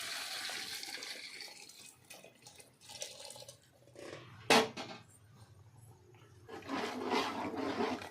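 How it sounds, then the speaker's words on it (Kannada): Water poured into a large pot holding rice and chicken for chicken biryani, a steady splashing gush that rises near the end, with a few clinks and bumps in between. "ಇವಾಗ ನೀರು ಹಾಕ್ತಾ ಇದ್ದೀನಿ"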